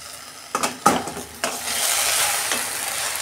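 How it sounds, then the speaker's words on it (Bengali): Okra fries in a pan at close range: a few sharp clanks and scrapes of a spatula early on, then a steady hiss of sizzling oil that swells and holds. "ঢ্যাঁড়সটা আমার ভাজা হয়ে গেছে,"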